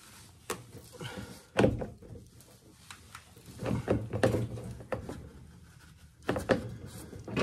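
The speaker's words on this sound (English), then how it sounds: "let's see if we can crimp this" Crimping a track clip on a 1970 Auto Ski 300 snowmobile track, heard as a series of close, loud metallic thunks and clanks with a short rustle of handling between the strikes.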